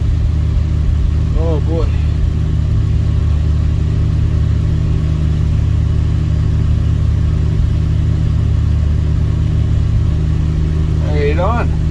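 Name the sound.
Dodge D100 truck engine cold start at night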